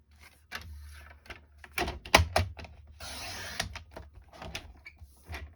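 A paper trimmer cuts a one-inch strip of cardstock for a slimline card, heard as close clicks and knocks of the blade and paper handling with a short scraping slice in the middle, no talk.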